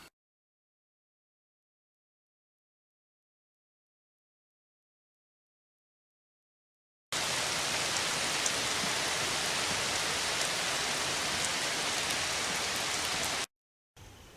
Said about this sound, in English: It has rained since 5 o'clock this morning